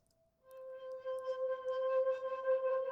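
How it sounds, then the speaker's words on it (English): Spectrasonics wine glass organ patch: a sustained, glassy tone rising in after a short soft note, holding a steady pitch with shimmering, animated overtones throughout, alone and without talking. "And then we've got that wine glass organ sound again,"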